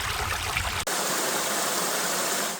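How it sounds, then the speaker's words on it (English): The Willingford stream in winter, running through Dallington Forest, gives a steady, close rushing of flowing water that carries on without a break, with no voices. "This walk follows the Willingford stream, starting low in Dallington Forest and climbing steadily toward Brightling Down"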